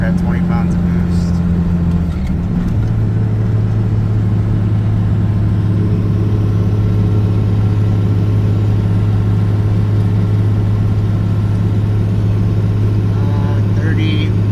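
A 12-valve Cummins diesel truck engine drones loudly and steadily under boost while towing a heavy load, a low constant rumble that shifts pitch once early on, with someone talking over it.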